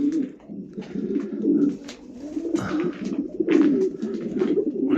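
Racing pigeons of Arden, Doli and red Janssen lines coo continuously nearby, low throaty warbling calls overlapping one another, with occasional brief rustles in the background.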